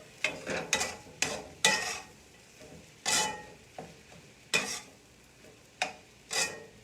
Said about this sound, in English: And we will give it a final stir. Let's give it a toss.